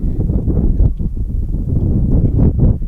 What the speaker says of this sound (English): as you can probably hear through the mic, it's pretty windy.